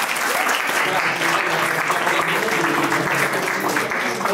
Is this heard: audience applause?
yes